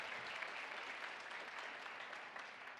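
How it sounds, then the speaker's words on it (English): Broad, sustained audience applause fills a large hall at a Lenovo Transform technology presentation, a dense wash of clapping that holds steady throughout without any voices over it. "How about a big round of applause for Think Agile"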